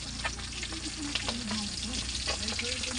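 Fish frying in a pan with steady, close sizzling and crackling throughout, with faint clinks of a utensil now and then.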